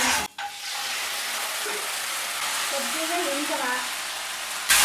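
Urad dal, garlic, cumin and curry leaves frying as a tempering, giving a steady, close sizzling hiss that stays even throughout, with a brief dip near the start and a sharper burst at the end.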